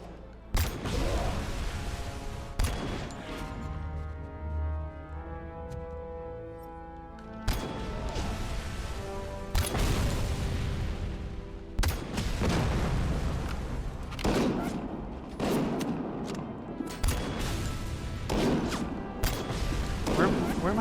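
Gunfire in the video game RoboCop Rogue City, loud irregular bursts and heavy single shots booming between quieter stretches, with game music and a voice underneath.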